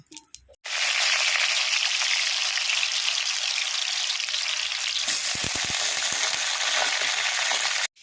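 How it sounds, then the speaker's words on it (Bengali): Loud, continuous hiss and crackle of potatoes frying in hot mustard oil, starting abruptly, with a few soft knocks near the end. "তেল গরম হয়ে গেছে, আলুটা ভেজে নেব।"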